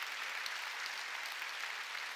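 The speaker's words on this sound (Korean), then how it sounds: "깨달은 사람만 박수 치라고." A church congregation at a Sunday service claps together in a dense, steady burst of applause that stays even throughout, with no talking.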